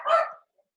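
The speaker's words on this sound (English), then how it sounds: "the reason my dogs are barking is because I'm getting cookies delivered" One dog gives a single sharp bark at a cookie delivery, loud and close, followed by a tiny faint yip and silence.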